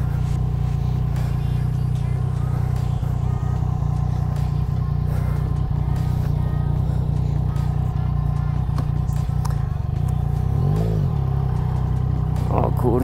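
A Yamaha MT motorcycle rumbles steadily while being ridden, its low engine drone constant throughout with a brief rising rev near the end, heard from the rider's position with some faint wind and clatter.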